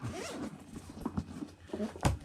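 A zipper is pulled on a JUBMACH Steam Deck carrying case, giving a quiet, close, continuous rasp that runs for about two seconds with a few stronger pulls.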